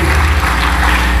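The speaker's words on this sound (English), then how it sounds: "If we can give him another round of applause," Applause from a business-event audience honoring a speaker, dense and steady throughout, loud and close with no talk over it.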